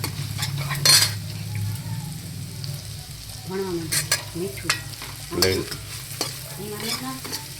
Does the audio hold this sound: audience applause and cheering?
no